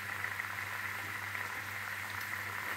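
Fish curry (bele fish jhal) bubbling in a pot, a steady close simmering hiss with soft popping, continuous and fairly quiet with no talk.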